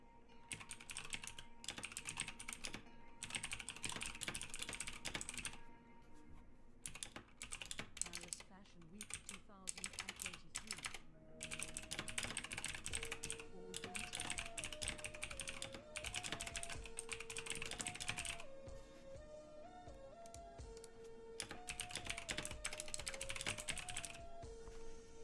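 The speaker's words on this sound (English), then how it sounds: "Sorry if this is super loud keyboard stuff" Rapid keyboard typing clatters in uneven bursts and pauses over a steady musical background, with quiet speech at times.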